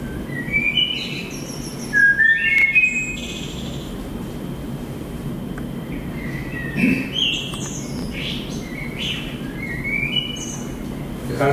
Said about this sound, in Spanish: Es una de las aves jazzísticas más alucinantes del mundo.